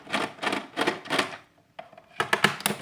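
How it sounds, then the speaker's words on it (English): A screwdriver works loose screws on a plastic toy gun, giving quick bursts of sharp, rattling clicks in a steady rhythm, then a brief pause before another close, crisp burst. "It's pretty easy with this type of screwdriver because you just gotta really fast."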